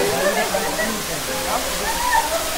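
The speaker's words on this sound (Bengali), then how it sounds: "ও মাই গড, আওয়াজ তো শোনো। এই যে জলটা পড়ছে" Water pouring down at Wah Caba Falls on the way to Cherrapunji in Meghalaya, a dense, continuous rushing roar heard close by, with people talking over it throughout.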